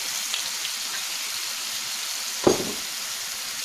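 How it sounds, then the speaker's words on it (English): Balsamic vinegar hits onions in a hot pan, raising a steady close sizzle with one brief splashing burst midway, no talking. "I want to cook some balsamic flavor into my onions, so I'm going to go ahead and add this"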